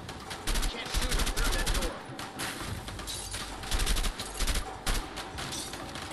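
Rapid automatic gunfire and bursts of shots from the video game A Way Out, dense and continuous for several seconds with brief lulls, loud and close, with faint voices underneath.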